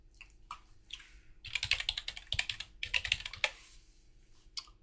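Someone types on a computer keyboard in quick bursts of clicky keystrokes, close up, with short pauses while browsing a knife site.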